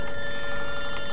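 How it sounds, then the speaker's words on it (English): A telephone bell rings continuously and loudly, its bright, metallic trilling filling the whole brief moment with no voices over it. "Phone rang"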